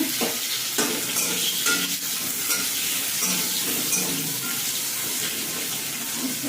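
Vegetables frying in two spoons of oil in a wok (kadai) for Bengali shukto with jhol bora, a continuous close sizzle with scraping stir sounds throughout.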